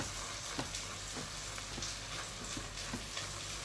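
Lentils with pumpkin and turnip simmering in a pot, a steady soft bubbling sizzle with faint scattered clicks and pops, continuous and close, no talking.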